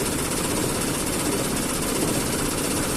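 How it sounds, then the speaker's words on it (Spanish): A car engine idling roughly on only two cylinders because an ignition coil is disconnected: a loud, dense, continuous rattling drone with heavy vibration and no voices. "Vibra en demasía porque estamos trabajando simplemente con 2 cilindros. Pero en esta condición, ya prendido el motor"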